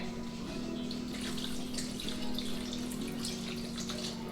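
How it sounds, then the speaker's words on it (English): Water runs steadily from a tap into a pan of lamb meat for an Albanian baked lamb and yogurt dish, a continuous close splashing stream with no talk. "So I'm gonna add some more water just until it covers the meat"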